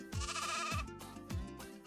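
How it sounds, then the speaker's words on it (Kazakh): Three close bleats from a goat in quick succession, loud and wavering, with no other sounds around them. "ешкі, олардың төлі лақ."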